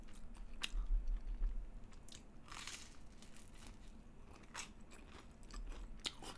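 Bread eaten with Spanish-style garlic shrimp gambas, heard as close, soft bites, crunching and chewing in irregular bursts with no talking.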